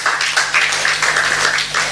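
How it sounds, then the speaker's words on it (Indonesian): Audience applause at a church service fills the space with dense, steady clapping lasting about two seconds, close and fairly loud, with no talk. "Tepuk tangan dong buat Tuhan Yesus"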